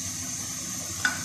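Beef and spices go into a hot pan for shaami kabab, giving a steady close sizzle with soft stirring and a couple of brief sharper clicks near the end.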